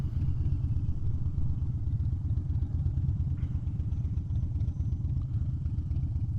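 A motorcycle fitted with a Thundermax engine module idles after a restart, a steady low throbbing rumble with mechanical clatter, close to the recorder and without any talk.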